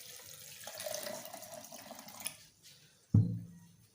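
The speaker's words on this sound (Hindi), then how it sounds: "हम 2 गिलास पानी डाल देते हैं" Water poured from a glass into a pot for a mint milkshake drink, a steady splashing stream for a couple of seconds, then a sharp knock of the pot near the end, no talking.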